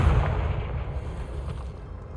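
Confringo fire spell blasting in Hogwarts Legacy, a loud booming burst up front that decays into a rumbling, crackling tail.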